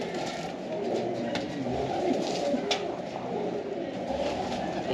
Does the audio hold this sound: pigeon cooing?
yes